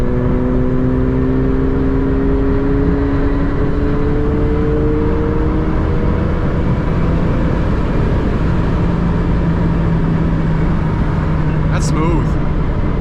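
A McLaren drives at night, its engine note steady and smooth with gentle rising pitch under acceleration, heard from inside the car beneath constant road and wind noise while people talk.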